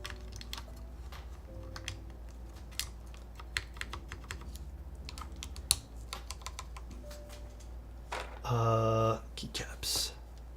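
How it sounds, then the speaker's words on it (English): Keycaps are pressed onto an MMStudio Class100 mechanical keyboard, giving scattered sharp plastic clicks and snaps up close, with faint low voices and a brief louder tonal burst near the end. "Let's put some keycaps on this bad boy."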